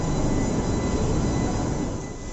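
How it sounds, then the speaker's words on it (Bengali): Kolkata Metro train on the Dakshineswar–Noapara line at Noapara station platform: a continuous low rumble of a moving train, loud and close, easing slightly toward the end. "আমার পেছনে দক্ষিণেশ্বর থেকে নোয়াপাড়া বাউন্ড প্রথম কমার্শিয়াল মেট্রো রেল।"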